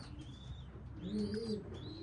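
Racing pigeons cooing softly in a loft, a faint low murmuring coo with a few high chirps, close and quiet.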